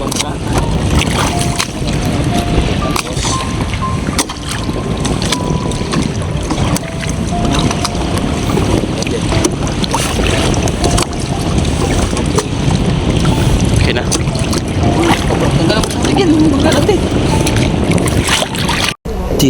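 Small wooden boat on water while bailing water, steady wash of water and wind noise with bumps and splashes close to the microphone, loud and continuous, with a brief spoken word.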